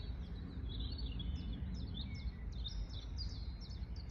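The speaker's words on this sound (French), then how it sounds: "J'entends les oiseaux chanter" Small birds chirp and trill in repeated short phrases, fairly faint over a low, steady background rumble.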